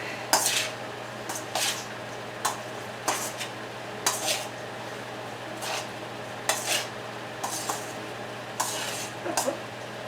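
Kale and beet salad with honey balsamic vinaigrette tossed in a bowl, giving a run of short clinking, scraping utensil strokes at an irregular rhythm over a low steady hum, close by, with no talking.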